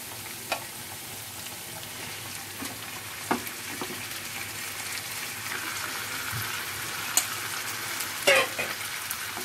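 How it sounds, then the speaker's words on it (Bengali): Chicken pieces fry in hot oil with grated ginger and garlic, a steady close sizzle with occasional louder pops and spatters over about nine seconds, no voices. "এই চিকেনটাকে আমি পাঁচ মিনিট ফ্রাই করবো"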